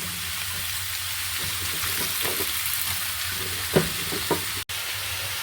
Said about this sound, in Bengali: সব একে একে সবজিগুলো দিয়ে ভেজে নিচ্ছি